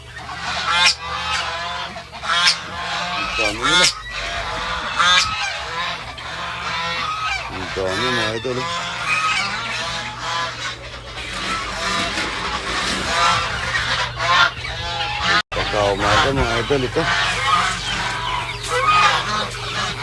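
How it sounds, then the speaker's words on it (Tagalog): Many geese, including imported ones, honking loudly and continuously, overlapping calls from a large flock close by, with someone talking now and then. "Yun mga imported na gansa yun mga idol"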